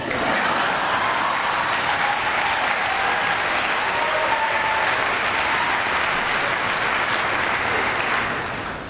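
Sustained applause from a large audience, dense and steady throughout, with no voices standing out.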